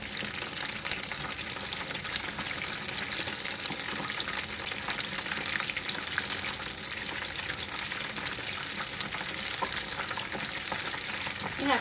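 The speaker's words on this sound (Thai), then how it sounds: "พอเราทอดแล้วจะฟูน่ากินค่ะ" Chicken wings with fish sauce deep-frying in plenty of oil, a dense, even sizzle and crackle of bubbling that continues steadily at moderate loudness throughout.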